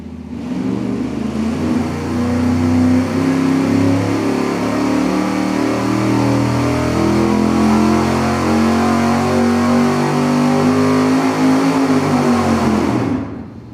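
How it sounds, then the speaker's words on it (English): 383 V8 engine in a steady dyno pull accelerating at 300 RPM per second, a loud continuous roar rising in pitch for about 13 seconds before cutting off sharply, close and alone. "we're going to do a regular straightforward dyno pull as we always do at an acceleration of 300 RPM per second"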